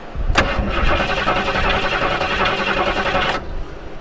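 A 1973 Ford Mustang Mach 1 engine cranks on its starter for about three seconds, a loud, steady, rapid churning rhythm that starts and stops abruptly without catching, heard up close.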